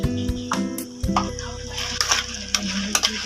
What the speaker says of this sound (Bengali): লবণ দিয়ে কষিয়ে নেবো